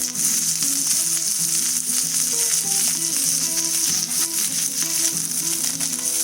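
Curry leaves sizzle steadily in a hot pan for a Kerala-style prawn curry, a continuous close frying crackle, with background music playing throughout.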